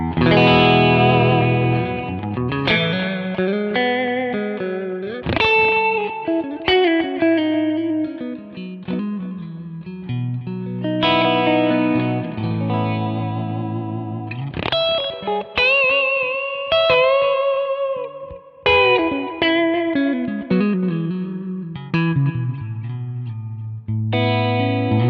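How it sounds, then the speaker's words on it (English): Electric guitar through a bright, cleanish Fender-style amp profile on a Kemper, like a Princeton with a larger power section, played alone with chords and single-note lines, a touch of breakup, chorus-like shimmer and reverb. "It's a cleanish profile with a little bit of breakup,"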